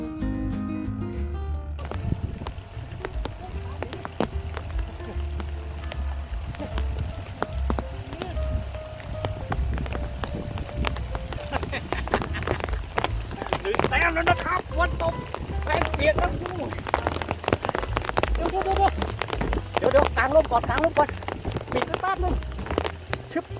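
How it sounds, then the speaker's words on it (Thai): Steady rain patters on a surface throughout, with someone talking over it and low rumbling underneath. "ขณะนี้คุณโดนฝนล้อมไปหมดแล้ว"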